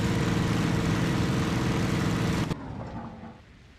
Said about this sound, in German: Kaputten Motor.